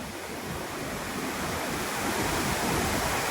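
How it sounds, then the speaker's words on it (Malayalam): A steady, dense roar of a waterfall in Meghalaya, near a living root bridge, fills the scene, constant and broad, growing slightly louder, with no voices. "അതൊരു വാട്ടർഫോൾസ് ആണ്"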